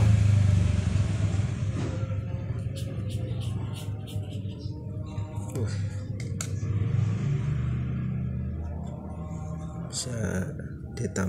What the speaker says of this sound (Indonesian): Ada motor lewat, suaranya ada motor lewat.